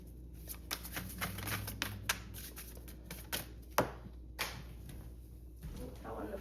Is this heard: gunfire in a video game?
no